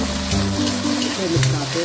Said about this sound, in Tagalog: At itaktak na natin yung ating sardinas.